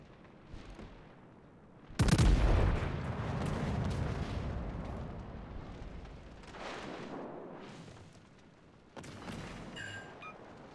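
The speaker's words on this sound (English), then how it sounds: "I didn't get a fire, and I'm using battleship guns." Heavy battleship guns firing in World of Warships, the French battleship Picardie: a loud, booming salvo bursts out and rumbles on for several seconds, with a second weaker blast near the end.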